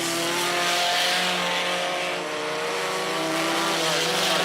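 Race cars on hot laps at Mohawk Raceway, a live racing event: a continuous loud engine roar with steady revving and faint tire noise, several cars blending together without a break.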